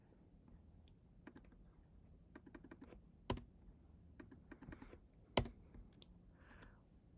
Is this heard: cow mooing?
no